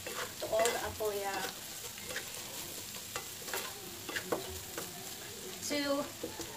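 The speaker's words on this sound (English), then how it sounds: "You stir it so it will blend to all the ampalaya." Sliced ampalaya (bitter melon) being stirred in a frying pan with a little salt: steady sizzling under scraping and clacking of the utensil against the pan, close up with no talk.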